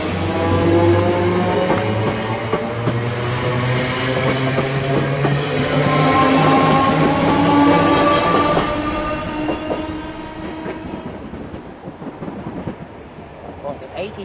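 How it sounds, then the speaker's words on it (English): A Greater Anglia passenger train bound for Norwich from London Liverpool Street rumbles loudly past at Bethnal Green, its steady roar and clattering wheels filling most of the clip before easing slightly toward the end. "also passing by is a service to Norwich, and that is 1 Papa 20, the 1033 Greater Anglia service to Norwich from London Liverpool Street"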